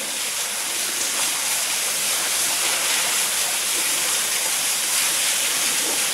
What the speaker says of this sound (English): I've come down the steps to the bottom of the waterfall.